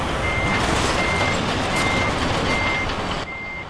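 A truck in the Euro Truck Simulator 2 video game reverses, its backup alarm sounding five evenly spaced steady beeps over a loud engine drone that drops off near the end.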